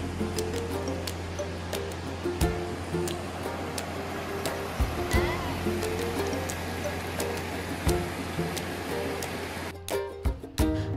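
The Jaldhaka river at the Jhalong picnic spot flows in a steady, moderately loud wash, joined by scattered bird calls and a few brief knocks, with some louder noise near the end.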